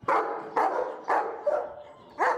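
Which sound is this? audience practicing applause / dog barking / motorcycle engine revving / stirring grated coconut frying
dog barking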